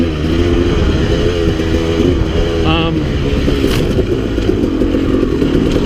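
A 2017 Yamaha YZ250X two-stroke dirt bike with a 52-tooth rear sprocket revs hard as it accelerates through the gears, its sharp buzzing engine rising and falling, close and loud.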